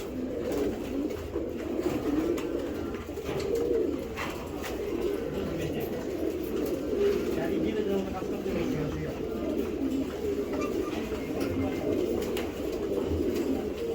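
A racer pigeon coos softly and continuously at close range under a steady murmur of background noise.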